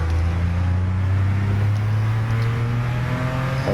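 2017 Ford GT engine under steady load while driving a track lap, a loud continuous drone with a rising pitch and no break, heard from close inside the car, no voices.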